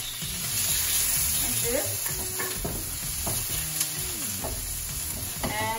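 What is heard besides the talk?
chopped onion cooking in hot oil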